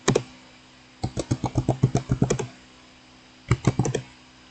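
Keystrokes on a computer keyboard while entering a command on an Ubuntu server: a quick burst of close, crisp taps, a pause, then another short run of clicks.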